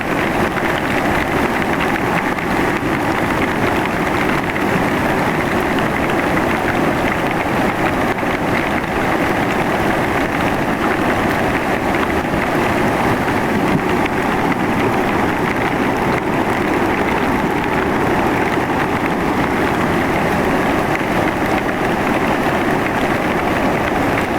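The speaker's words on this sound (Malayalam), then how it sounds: "സ്ഥലം മൊത്തം മാറി. വെള്ളം ഫുള്ള് വന്നു." Steady, loud broadband rush of flash flood water in Wayanad after heavy forest rain, carrying large trees, with a constant roar and no pauses, heavy and close throughout.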